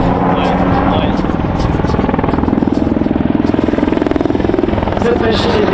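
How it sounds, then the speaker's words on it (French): A heavy, agile military transport helicopter fitted with a cargo hook flies a display at an air show, its rotor chop loud and steady throughout, with a French commentator talking over it. "Cet hélicoptère, en dépit de sa masse, on le disait tout à l'heure, il est particulièrement agile."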